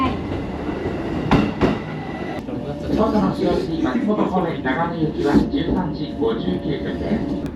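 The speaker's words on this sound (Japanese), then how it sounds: "再び五箇駅に戻り、松本方面の列車に乗車。" A train on the Chūō Main Line rolls along the rails toward Matsumoto with a steady rumble and clicking wheels, heard from inside, with voices talking over it.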